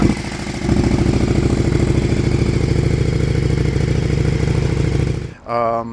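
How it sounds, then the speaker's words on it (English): A BMW-traded motorcycle, flagged as having a noisy exhaust, idles loudly and steadily up close, a deep throbbing rumble that runs for about five seconds before cutting off abruptly. "there was one advisory, and it says exhaust noisy"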